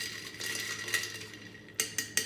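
A Manhattan cocktail being stirred: a spoon clinks softly against glass and ice, ending in three sharp, distinct taps, close and quiet.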